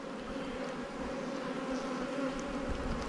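Honey bees swarm around a beehive super fitted with frames of foundation, a steady close droning hum with no break, heard alone without any talk.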